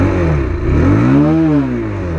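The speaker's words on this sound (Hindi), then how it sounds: "सबसे पहले एग्जॉस्ट हम सुनाता हूं।" A Bajaj Pulsar 220F motorcycle's exhaust is revved up and eased back once while idling, close and loud, its deep throbbing note rising and falling smoothly.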